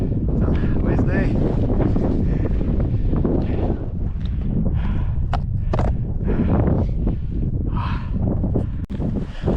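Strong wind buffets the microphone on an exposed mountain summit along an Irish hiking trail, a loud continuous roar with gusty surges throughout.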